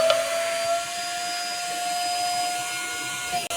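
A Zolele wet and dry spot cleaner vacuum runs steadily up close, a constant whining motor drone with a strong tonal hum that holds for the whole stretch and briefly dips at the end, no talk.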